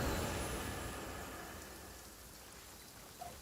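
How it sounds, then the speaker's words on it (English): Steady rain pours in the Genshin Impact game world, a dense, even hiss of falling water that eases gradually, with no voices over it. "Let us find shelter from the rain."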